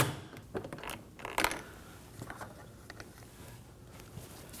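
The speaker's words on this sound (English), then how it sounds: "Using a 10mm socket, go ahead and take that out." A socket wrench on a 10mm bolt of a 2017-2024 Nissan Armada during mirror replacement: quiet, scattered ratcheting clicks and small metallic taps, with a couple of sharper clanks and long near-silent gaps between them.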